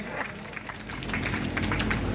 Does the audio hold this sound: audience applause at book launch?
yes